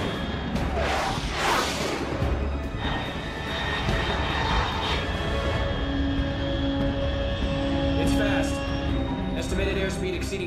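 A supersonic aircraft passes overhead in the video game Metal Gear Solid 3. A loud, steady engine roar with a rushing whoosh fills the whole stretch, and voices are heard over it.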